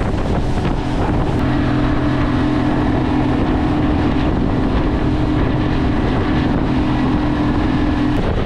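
A Senator IS400 Spearfisher boat's outboard motor drones steadily while running on water, a loud continuous hum with a sustained tonal whine, mixed with heavy wind rush and no talking.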